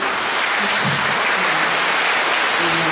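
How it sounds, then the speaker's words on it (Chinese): An audience at a live music event applauds a songwriting contest winner, dense sustained clapping with scattered cheers, loud and close throughout. "大家掌声一下。"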